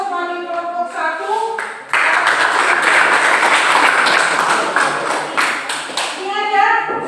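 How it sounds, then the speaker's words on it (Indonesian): Schoolchildren in a classroom applaud a student group after its discussion presentation, a loud burst of steady clapping lasting several seconds, with a teacher's voice speaking before and a voice after. "dengan demikian kita berikan aplaus bagi kelompok 1"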